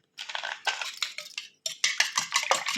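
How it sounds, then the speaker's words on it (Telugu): An egg mixture for cheese omelette bread is beaten briskly in a bowl, giving close, rapid clinking strokes in several bursts with a brief pause midway. "ఇందులో కొంచెం బీట్ చేసేస్తున్నాను."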